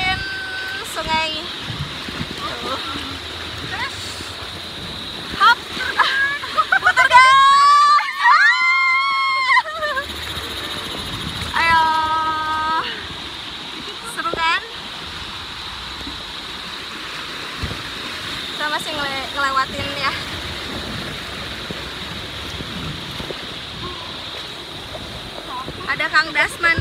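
Whitewater rapids rush and splash continuously during river rafting, a steady loud wash of water under people talking and shouting.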